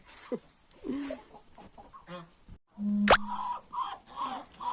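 Chickens just let out of their coop cluck on and off while chasing each other, with a sharp clatter partway through and a few louder squawks near the end, close by.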